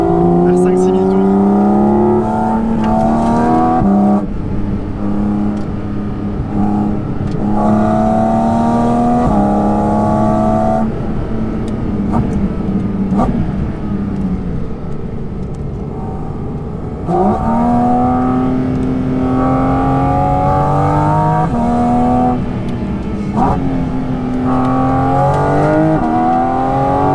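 Porsche Cayman GT4 RS with a 500 hp engine revving hard toward 5,000–6,000 rpm while driving, loud and close, its pitch repeatedly climbing then dropping between shifts; someone talks over it.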